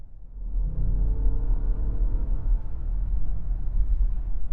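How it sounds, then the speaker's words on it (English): Luxury car engine humming quietly while driving, a steady low rumble and whir with road noise, even and unbroken throughout. "I like being able to hear the engine in that quite subtle, just sort of hums away."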